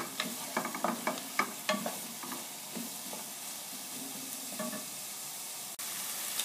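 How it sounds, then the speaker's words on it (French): Sliced onions sizzle gently in melted butter in a frying pan or pot, with a soft steady frying hiss and several sharp spoon scrapes and clatters early on. "dans une poêle ou un faitout, je commence par faire fondre le beurre. Et j'y ajoute les 2 oignons que j'ai émincés"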